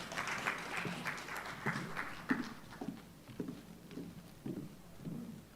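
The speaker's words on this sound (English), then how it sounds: "Please, another round of applause for her as she comes." Audience applause for a poet coming to the podium at a local governance event, a soft, fairly distant patter of clapping with uneven bursts running throughout.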